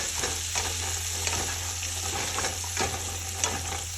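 Apples tossed in a hot pan with bacon before Brussels sprouts go in, giving a continuous close sizzle with soft scraping and stirring strokes throughout, with no voices.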